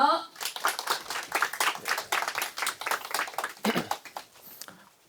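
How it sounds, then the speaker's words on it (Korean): An audience at a science lecture applauding the speaker, dense rapid clapping from a moderate-sized crowd that holds steady and then tapers off at the end. "자, 우리 박사님께 박수 주세요."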